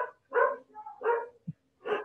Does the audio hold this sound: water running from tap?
no